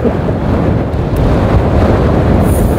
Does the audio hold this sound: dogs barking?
no